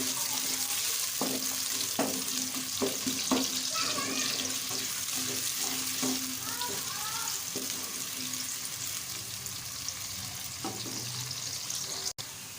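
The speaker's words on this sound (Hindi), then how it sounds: "मैं इसके अंदर जो है अनियंस ऐड कर लूँगी। इनको हम सौते कर लेंगे" Onions sautéing in a pan for aloo methi, a close, even sizzle throughout with occasional clinks and scrapes of a spoon against the pan, no voices.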